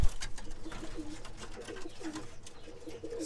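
Several pigeons in a loft give repeated throaty coos in a loose rhythm, each rolling call rising then dropping, close and fairly clear over faint shuffling.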